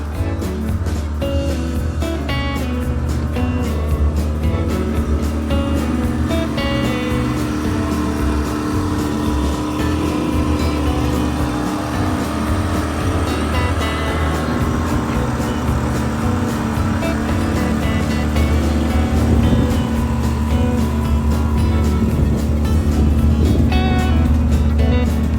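A sailboat motoring under engine power on an overnight coastal passage off New Jersey, with a continuous, loud, throbbing engine drone over rushing water noise.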